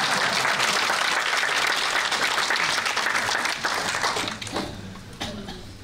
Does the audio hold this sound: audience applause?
yes